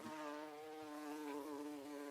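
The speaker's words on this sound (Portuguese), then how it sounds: "Ai, é uma mosca esquisita." A strange-looking fly buzzing steadily while decorative rabbit candles are being made, a close, continuous whining drone with a slightly wavering pitch and no speech.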